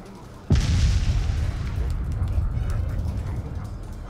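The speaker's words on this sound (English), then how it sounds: "because the lollipops are like bombs" A lollipop bomb goes off in a zombie video game with a sudden loud boom, followed by a long rumbling roar that slowly fades under continuing game noise.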